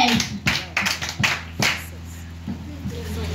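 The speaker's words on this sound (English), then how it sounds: "Clap for yourself." Nursery and primary school children clap in short, uneven bursts in a classroom at a Nigerian school. The quick volleys are close, separated by brief pauses, over a low background hum.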